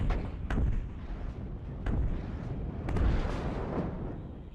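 Heavy artillery in the video game WARNO booms repeatedly over a continuous rumbling battlefield din, with several sharp blasts spaced unevenly through the barrage.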